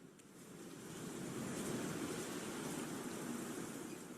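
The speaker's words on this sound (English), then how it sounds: "That's some very heavy rain." Very heavy rain pours in a dense, steady hiss that is soft overall, swells slightly and then holds evenly, with no voices.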